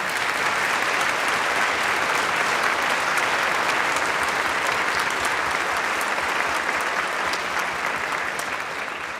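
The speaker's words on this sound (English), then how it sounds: "Give it a round of applause" Steady, dense applause from a large crowd fills a legislative chamber in the newly restored state Capitol, loud and continuous for the whole stretch, fading slightly at the close.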